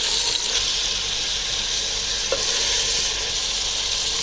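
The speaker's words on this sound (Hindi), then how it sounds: "अभी इसमें मटन ऐड कर लें। अब ये अच्छे से भून लें।" Mutton fries over a high flame in a pan, a loud, dense and continuous sizzle close by, with one faint stirring tap midway and no talking.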